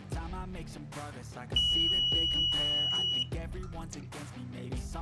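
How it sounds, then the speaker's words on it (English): A steady high electronic beep from an iPhone 12–14 screen opening machine sounds for about two seconds, loud and piercing over busy background music. "I'll remove the annoying beeping by lowering the suction cup and locking it down."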